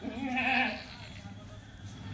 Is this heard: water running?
no